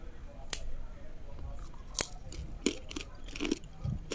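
Crispy fried fishless pempek being bitten, giving several sharp crunches spaced a second or so apart, close and fairly quiet, with brief chewing between bites and no talk.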